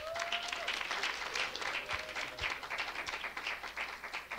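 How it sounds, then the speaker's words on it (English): An audience claps for a special presentation at an event, a steady, fairly faint wash of hand clapping that carries on without pause, with a few voices faintly mixed in. "Give him a hand clap."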